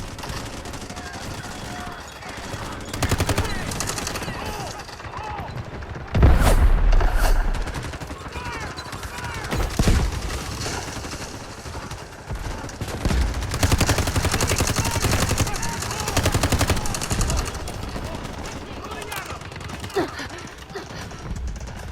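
AUG rifle fire in the mobile shooter Delta Force Mobile, with repeated bursts and scattered single shots over a steady game background, including a loud heavy blast partway through.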